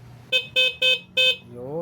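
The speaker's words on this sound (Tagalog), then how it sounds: "Busina tayo, busina." A vehicle horn sounds in four short bursts, the third slightly longer, loud and close, with a faint rising tone trailing at the end.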